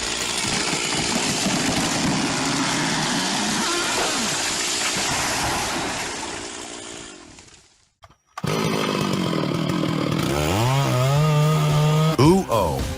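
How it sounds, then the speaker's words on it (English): A chainsaw cuts into the trunk of a huge old tree, roaring steadily and loud for several seconds before dying to a brief silence, then restarting and revving in rising whines close by. "the chainsaw in my hand is making cuts on the trunk of a huge old tree"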